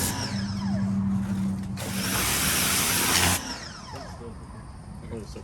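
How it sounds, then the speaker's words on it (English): A pressure washer sprays a car with a close, loud hiss, rising into a harsher blast for a couple of seconds before dropping back, with a voice talking intermittently over it. "I'm gonna take the pressure washer and do that real quick."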